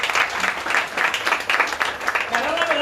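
A roadside crowd at a street prayer gathering claps along in rhythmic bursts, close and fairly loud, with voices mixed in underneath.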